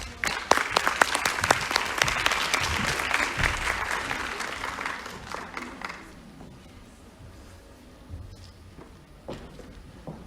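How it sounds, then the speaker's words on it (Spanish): Audience applause at a nursing-related mental health and gender equity conference, a dense burst of clapping that fills the room for about five seconds before thinning to scattered claps and quiet room noise. "Les pido un aplauso."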